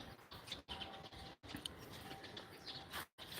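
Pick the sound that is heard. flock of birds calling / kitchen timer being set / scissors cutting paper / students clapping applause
flock of birds calling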